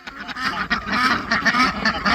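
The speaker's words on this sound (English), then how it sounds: "Got the little duck family all together." A small family of farm ducks quacks and honks near a pond, a busy run of overlapping calls close by and fairly loud.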